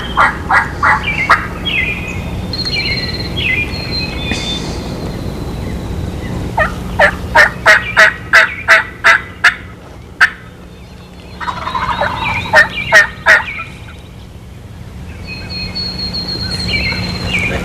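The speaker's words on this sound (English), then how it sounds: "Oh, you got that one to gobble that time. Boy, he's got a pretty gobble." A wild turkey gobbles outdoors in a string of sharp, rattling bursts, several quick calls clustered together and a later volley after a brief lull, loud and fairly near over soft background hiss.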